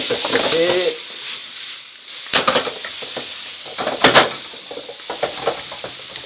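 Chicken strips with shallot cooking in a pan, sizzling close by alongside stirring scrapes and clinks of a utensil on the pan, with someone talking at the start.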